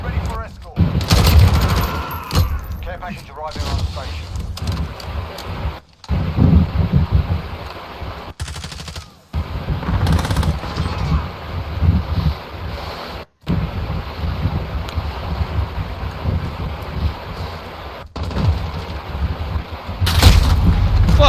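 Gunfire in a hardcore match of the video game Call of Duty Modern Warfare, repeated bursts and shots at varying distances with rumbling blasts, under someone talking intermittently.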